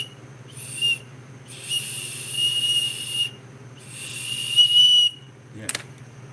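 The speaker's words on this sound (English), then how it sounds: "these ones are way easier to blow whistle into" A whistle sounds in three shrill blasts, each held for around a second or more with short gaps between them, then a brief sharp knock at the end, all over a low steady hum.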